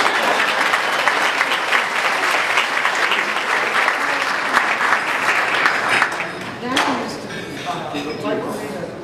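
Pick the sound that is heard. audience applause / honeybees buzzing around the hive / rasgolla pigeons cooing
audience applause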